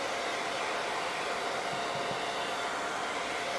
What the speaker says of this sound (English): The blow dryer is your friend.